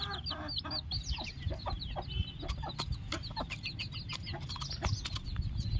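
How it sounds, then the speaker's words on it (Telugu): A country chicken clucks in short, repeated calls at close range, with some light rustling and wing movement underneath. "మీరు చూసేది వేరే పెట్ట ఫ్రెండ్స్"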